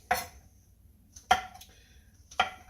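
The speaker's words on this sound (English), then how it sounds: "And I'm just slicing up my mushrooms." Knife slicing mushrooms on a board before a sauté: three sharp, separate cuts spaced about a second apart, close and fairly quiet, with nothing else in the background.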